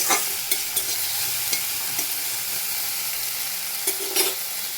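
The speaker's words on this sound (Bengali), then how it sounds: "ভালো করে আলুটা" Potatoes fry and get stirred in a pan with a little salt and turmeric, giving a steady close sizzle broken by several sharp scrapes and knocks of the spoon against the pan.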